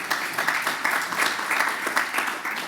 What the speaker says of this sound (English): give Alicia a round of applause